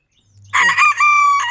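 A fancy bantam rooster crows once, loud and close, a short strained call after a brief rising start.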